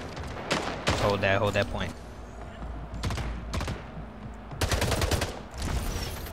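Gunfire in the Splitgate arena shooter, rapid automatic bursts and sharp shots crackling in several clusters across the stretch, loud and close, with players talking over the firefight.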